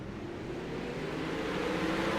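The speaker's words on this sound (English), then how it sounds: "Pace truck pulling in." A pace truck pulls in at an Eldora sprint car race, a low continuous engine rumble that holds fairly steady and swells slightly, heard at a distance without talk.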